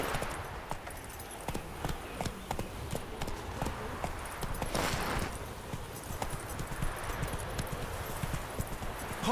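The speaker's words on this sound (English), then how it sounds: "Whoa there, Roach" A horse gallops in The Witcher 3, with rapid continuous hoofbeats drumming steadily under ambient game noise and wind for the whole stretch.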